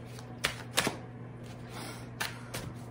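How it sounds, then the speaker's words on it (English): Cards being shuffled during a tarot reading, with a few sharp riffling bursts and soft shuffling between them over a low steady hum, quiet and close. "let's shuffle 100 times then."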